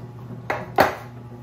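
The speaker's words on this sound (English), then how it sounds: "I'm gonna grab my bread pan" Metal bread loaf pan picked up and handled in a home kitchen, two quick clanking knocks close by, about a third of a second apart, over a quiet room hum.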